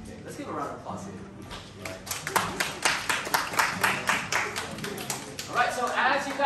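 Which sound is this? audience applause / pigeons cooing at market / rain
audience applause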